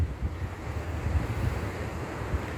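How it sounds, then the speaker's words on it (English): Windy rocky coastline at Makapu'u Point, Hawaii, where ocean surf shoots out of a hole in the rocks: a steady, low, rumbling wash of waves mixed with heavy wind buffeting the microphone, with no distinct single burst and no talking. "look at the surf like shooting out of that hole"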